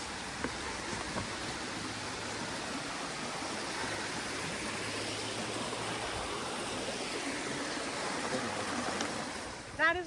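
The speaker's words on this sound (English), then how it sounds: "Some good flowing water now." Water flowing in a stream by a bridge on the Appalachian Trail, a steady, broad rushing hiss that runs unbroken throughout, moderately loud and close.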